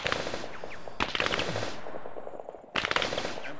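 Automatic weapons fire in Arma 3 during a guerrilla warfare battle, loud rapid bursts crackling in close succession with brief gaps between volleys.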